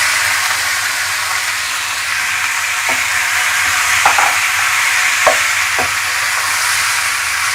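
Diced raw mango frying with garlic in a pan over a medium flame makes a steady, close sizzle and hiss, broken by a few soft stirring scrapes.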